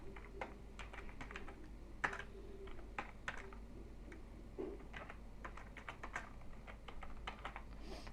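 Quiet keystrokes on a computer keyboard while typing in Microsoft Word, irregular soft clicks in short bursts over a faint low hum.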